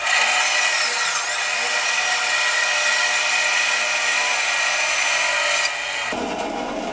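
Hand saw cutting a diagonal slot through a wooden pen blank, a close, steady, continuous rasping stroke that runs without pause for several seconds before stopping abruptly near the end.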